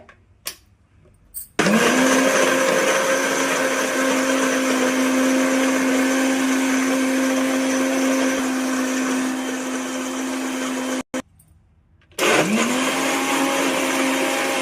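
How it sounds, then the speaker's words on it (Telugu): A kitchen mixer grinder blends dry fruit powder with milk into juice: a loud, steady motor whine starts after a brief quiet moment, runs for about nine seconds, stops briefly, then starts again. "డ్రై ఫ్రూట్ పౌడర్ బాగా మెత్తగా అయ్యేటట్టు బాగా కలిసేటట్టుగా మిక్సీ పెట్టుకోవాలి."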